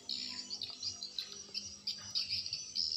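Swiftlets chirp inside a swiftlet nesting building, a dense, continuous layer of high twittering calls with short bursts rising and falling, steady and fairly close, with no voices.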